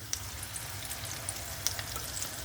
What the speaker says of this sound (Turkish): Bu şekilde tüm tavayı yeşil kabak mücverimizi boşaltıyoruz.